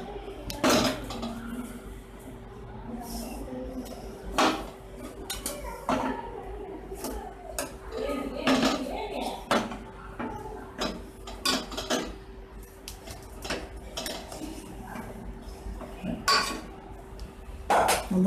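Cooked rice spooned from a pot into cooked dal for Madras-style sambar rice: repeated metal clanks and scraping knocks of a spoon against the vessel, close and fairly loud, spaced irregularly throughout.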